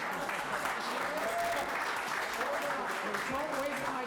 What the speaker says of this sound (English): Don't waste my time on applause.